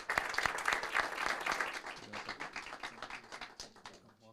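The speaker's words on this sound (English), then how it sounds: "A big round of applause for them." Applause for honorees at a city council meeting, a loud burst of many people clapping indoors that gradually thins and fades out over a few seconds.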